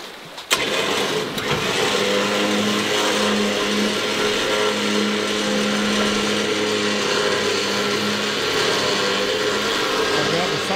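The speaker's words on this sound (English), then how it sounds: "Melissa's now going to send the boat back just by unwinding the Runver winch on the remote" An electric Runva winch on an off-road boat trailer runs steadily for about ten seconds, a continuous mid-pitched motor whine with a sharp clunk near the start, set against outdoor background noise with some talk.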